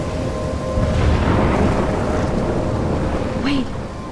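A thunderstorm in the video game Life is Strange rolls as a loud, continuous wash of rain and low thunder rumble, swelling in the middle, with a brief whooshing gust near the end.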